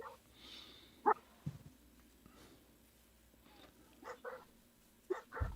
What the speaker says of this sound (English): That's the neighbor's dog.